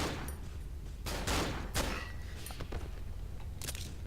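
Pistol fire from Suicider enemies wielding Glocks in the horror game Cry of Fear: several sharp, loud gunshot cracks spaced unevenly across a few seconds over a dark, rumbling ambient background.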